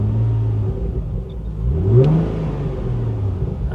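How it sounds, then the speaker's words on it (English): A modded Chrysler Prowler's engine idles with a low steady rumble, then is revved once near the middle, the pitch sweeping up and falling back to idle, loud and close. "Let's give it a little rev."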